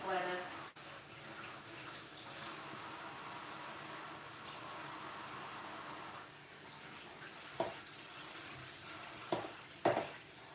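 Lettuce being washed under a running kitchen tap: a steady rushing hiss of water runs throughout, broken near the end by a few brief splashes and knocks as the leaves are handled.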